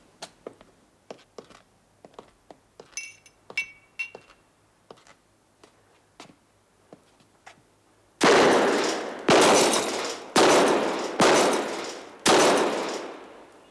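Gunshots ring out at champagne glasses in a 1969 circus film, three to five loud, sharp blasts in quick succession near the end, following quieter scattered ticks and clicks.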